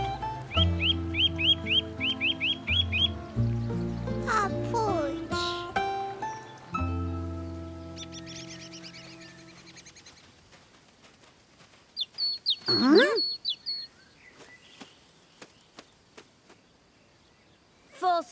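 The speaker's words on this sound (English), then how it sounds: "False alarm. That was a blue tit." A cartoon blue tit calls in a forest: quick, high chirps and whistled trills in short bursts, mixed with other bird sounds and sparse clicks, fairly close and alone without speech.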